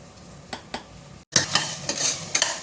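Vegetables sautéing in a pan for a vegetable kuruma, with a steady sizzle and scraping, clinking stirs against the pan at irregular intervals, close and clear.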